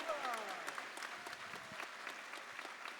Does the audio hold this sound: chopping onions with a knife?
no